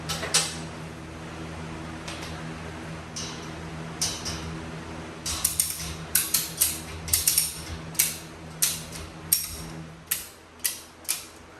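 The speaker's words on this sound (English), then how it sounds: "I'll use these heavy-duty ratchet straps to ratchet it to the platform of the ceiling" Heavy-duty ratchet strap cranked to secure a load to a ceiling hoist platform, giving a series of sharp clicking ratchet strokes that speed up into a steady run of distinct clicks over a low hum.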